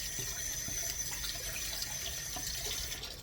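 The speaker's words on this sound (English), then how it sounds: "I better rinse my hands" Running tap water pours steadily into a sink as hands are rinsed, a continuous close splashing wash lasting a few seconds, with no talking.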